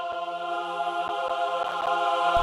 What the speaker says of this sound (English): This next section begins with some choirs which sound like this.